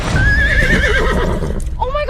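A restless, scared horse whinnies loudly and close in a long wavering neigh that falls away, followed by a shorter rising call, over heavy low rumbling and hoof movement.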